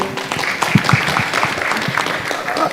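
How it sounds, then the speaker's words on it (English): An audience applauds at the close of a session, a dense steady patter of many hands clapping, fairly close, with a voice faintly underneath. "Another round of applause for Professor Mary for the good work done."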